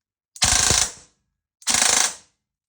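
A Specna Arms AEG airsoft gun with a Dark Matter Gen.2 motor set to 39,000 RPM fires two short full-auto bursts, each about half a second long of rapid mechanical rattling, separated by a brief pause.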